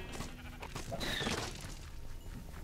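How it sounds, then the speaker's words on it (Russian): An enchanted sheep in Minecraft Dungeons bleats in a short wavering call at moderate volume, set against continuous game music and ambience. "Очарованная овца."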